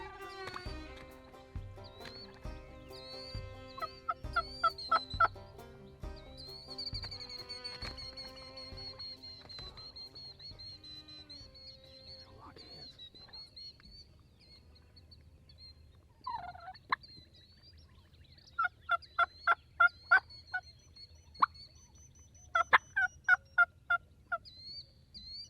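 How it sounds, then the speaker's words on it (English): Rio Grande wild turkeys fighting outdoors by a pond levee, with repeated gobbling bursts that come in clusters, some overlapping and some moderately close, over steady low background noise and occasional other bird calls. "these birds end up fighting in front of us"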